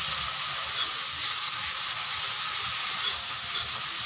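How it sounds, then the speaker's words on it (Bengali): Masala sizzles loudly and steadily in hot oil as it fries for egg curry, a close, even hiss with no talking over it. "মশলা থেকে কিন্তু আস্তে আস্তে তেল ছেড়ে দিচ্ছে"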